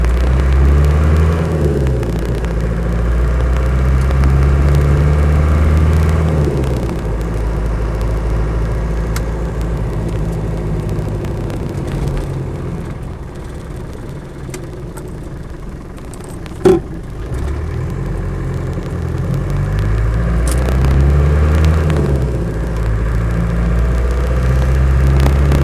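Warmed-up car engine running continuously on the move, a steady mid-pitched drone that rises and falls with revs as the gears change, with one sharp knock partway through.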